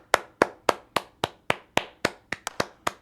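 A single person claps alone, eleven crisp, evenly spaced hand claps ringing out one after another in a quiet room with no talk over them.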